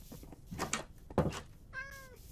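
Cat meowing in Minecraft, a short game meow with rising-falling tone near the end, following brief noisy bursts that may be voices or in-game sounds.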